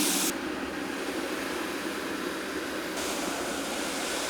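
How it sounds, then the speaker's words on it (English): Water from a garden hose pours steadily into a bucket during a car hand wash, producing a constant broad rushing hiss that stays loud and even throughout. "fill the bucket to your desired limit"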